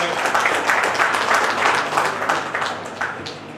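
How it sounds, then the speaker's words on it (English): Conference audience gives sustained applause, dense, even clapping filling the hall with a murmur of voices underneath. "A big round of applause for him."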